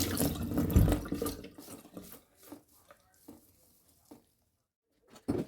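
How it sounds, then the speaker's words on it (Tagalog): Tap water runs over artichokes being washed in a kitchen sink, a loud splashing rush at first that thins into scattered drips and small splashes, then stops briefly before a short burst of water returns. "Ayan, hugasan muna natin."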